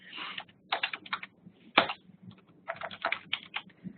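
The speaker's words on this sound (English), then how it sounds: "if I type a comment here" Fingers type a comment on a computer keyboard in quick bursts of close, clicking keystrokes, broken by short pauses and one louder key tap, with no talking.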